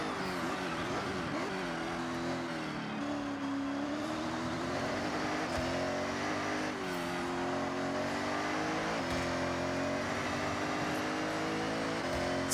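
Ferrari F80 engine in Forza Horizon 6, a steady loud drone rising and falling in pitch as the car accelerates and shifts, continuous throughout with no talk.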